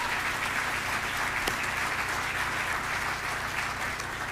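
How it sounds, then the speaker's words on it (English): Steady round of applause from an awards ceremony audience, a dense, even wash of clapping that holds at the same level throughout with no voices on top. "Let's give him a round of applause"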